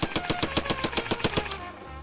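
An M3 grease gun submachine gun fires a steady burst of about ten rapid, loud, close shots that stop just before the end, with no talk.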